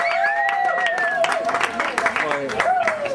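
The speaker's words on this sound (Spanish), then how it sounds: "Un aplauso para él." Audience applause for a performance at a launch party for La Mula, scattered clapping with crowd murmur, heard under a prominent tonal voice or whistle-like sound throughout.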